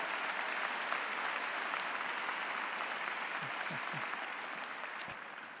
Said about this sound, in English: How about one round of applause for these great teachers that made a difference